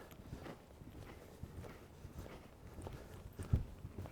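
A young show-jumping horse's hooves thud in a steady walking rhythm across a riding ring, soft and fairly faint, with a single louder knock near the end.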